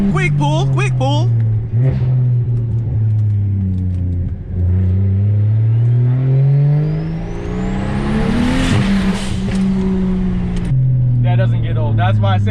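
BMW 335i, a single-turbo build, accelerating hard in a quick pull past a wall that echoes the sound: a loud engine note climbs and falls in pitch, rising to a peak before easing off, with talk over it.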